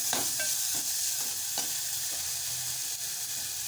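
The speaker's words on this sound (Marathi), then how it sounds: "आता मी मिश्रण एकजीव करून देत आहे" A spatula stirs a paste of green chilli, ginger, garlic, curry leaves and coriander in a hot frying pan for patties. Steady sizzling runs throughout, broken by repeated close scraping strokes.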